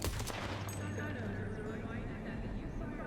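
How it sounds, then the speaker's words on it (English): A silenced gun fires loudly in Cyberpunk 2077, with sharp bursts at the start followed by a dense, noisy game soundscape, and a voice talks over it. "My silenced gun that sounded very loud"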